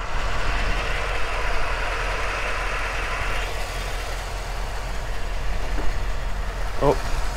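A 1994 Chevrolet Corvette C4 idles with a steady low rumble throughout, while someone talks over it for much of the clip.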